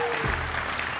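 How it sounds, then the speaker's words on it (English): A short burst of audience applause, steady clapping from a crowd filling the whole moment, at a Borderlands 3 gameplay presentation. "You can clap if you'd like."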